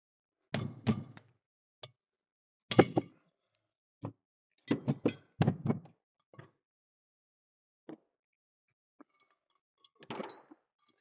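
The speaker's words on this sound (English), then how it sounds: "Just got to knock the bearing out." Sharp metallic hammer blows on a punch driving a bearing out of a Toyota Tacoma automatic transmission housing come in irregular bursts of several quick strikes, separated by pauses, with a few lighter single taps.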